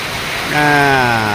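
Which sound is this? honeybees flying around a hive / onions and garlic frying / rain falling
rain falling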